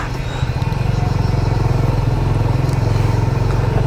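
A motorbike rides a rocky, broken jungle trail near Gundu in Bhaktapur, its engine thrumming loudly and steadily up close with a rapid pulsing beat and no clear speech.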